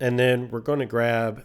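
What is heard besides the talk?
No everyday noise stands out behind the speech.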